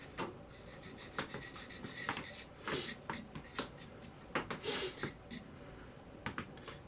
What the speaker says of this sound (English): as tight as I can get them with my finger, just rubbing across it just like that